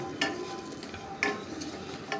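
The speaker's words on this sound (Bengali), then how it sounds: "এবার নাড়াচাড়া করে বড়িটাকে আমি ভেজে নিচ্ছি" Lentil badi fry in a wok over a low-to-medium gas flame, giving a soft steady sizzle while a spatula scrapes through them in a few brief, sharp strokes, close and quiet.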